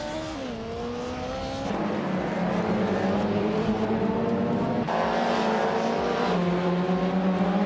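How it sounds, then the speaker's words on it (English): Race cars in a racing video game, including a 1993 Peugeot 405 in the BTC touring class, roar past with rising and falling engine whines and gear shifts, a dense continuous blend of motors. "Rowdy Zarolf is driving a 1993 Peugeot 405 in the BTC class."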